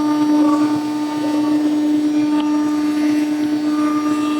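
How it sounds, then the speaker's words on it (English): A ShopSabre 23 CNC router spindle spins up and moves, giving a steady, loud, high mechanical whine with a strong sustained tone and faint background hum throughout. "That was me manually turning on the spindle and moving it."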